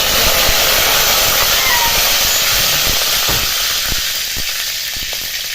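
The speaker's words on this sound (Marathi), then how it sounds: "फोडणी चांगली तडतडली की याच्यामध्ये कढीपत्ता घालून" Curry leaves sizzle loudly in hot oil for a tempering, with mustard and cumin seeds already popping in the pan; a steady, close frying hiss with faint crackles, no talk.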